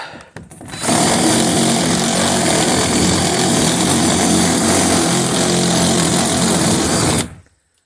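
A power drill runs at full speed in one sustained loud, close whine of about six seconds while working on an old abandoned semi trailer, starting and stopping abruptly.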